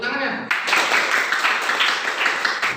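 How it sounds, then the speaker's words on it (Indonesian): A class of students claps for a classmate's correct answer, a dense burst of handclaps that starts abruptly after a brief voice and continues steadily for a couple of seconds. "Tepuk tangan ya."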